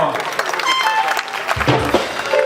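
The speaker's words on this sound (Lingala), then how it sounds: "je vous demande d'applaudir pour ces différents partenaires" Audience at a tribute concert applauding partners, a steady wash of clapping under a speaking voice, with a low rumble near the end.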